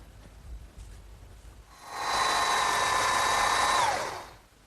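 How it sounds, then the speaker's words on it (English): Power drill boring a hole in wood for a garden swing, a steady whine lasting about two seconds that winds down at the end, close up with no talking. "I want to drill those next"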